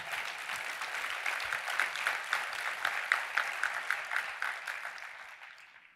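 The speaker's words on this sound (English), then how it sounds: "You can clap for that." An audience at a talk breaks into applause that swells, holds with crisp distinct claps, then fades out over several seconds.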